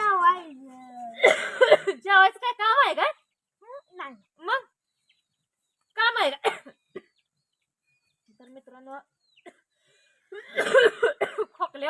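A few harsh coughs break out at intervals, with someone speaking quietly between them and silent pauses in between.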